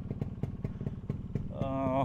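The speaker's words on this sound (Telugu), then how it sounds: "సో ఇవన్నమాట బైక్స్ అయితే స్టార్ట్ చేశాను మేము" Yamaha RX-135 two-stroke motorcycles running after a cold start on a foggy morning, a close, steady popping idle that is joined near the end by a voice.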